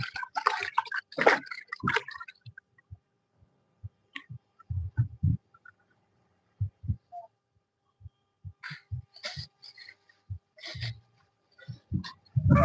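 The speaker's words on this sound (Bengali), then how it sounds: "এই যে জল নিয়ে আসলাম এবার তেঁতুলটা চটকে নেবো" Tamarind squelching as it is squeezed and mashed by hand in water, giving a run of soft, wet, irregular squishes and drips heard close up, with quieter gaps between bursts.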